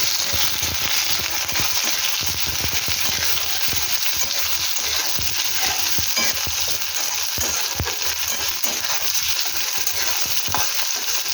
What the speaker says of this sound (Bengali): পেঁয়াজটা ভালো করে ভেজে নেবো